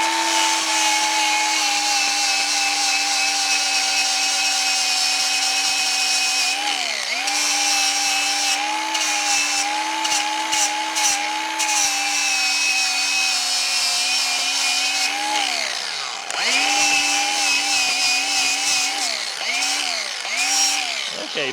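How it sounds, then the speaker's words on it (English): A battery-powered grinder grinds paint off the skeg of a 1983 Evinrude 50hp aluminum outboard motor, its motor whining steadily and loudly throughout, with brief dips in pitch as the disc bears down on the metal. "So I'm going to go ahead and start grinding. I got to get rid of some paint"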